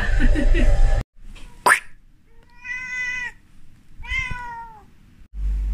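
A house cat meows twice in clear, rising-and-falling calls, close and distinct, after a brief burst of household noise and a sharp thump, with quiet pauses between the cries.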